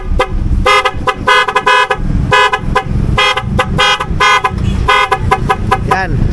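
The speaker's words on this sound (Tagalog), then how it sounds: "Tatlo, apat na busina po yan." Four loud horns newly fitted to a 2024 Yamaha NMAX V2 scooter blare in rapid, irregular honks and short bursts, close and piercing, with no voices over them.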